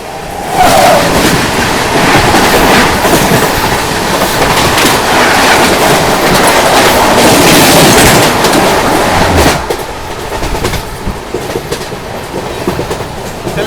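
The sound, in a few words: train passing through Lalitpur Junction without stopping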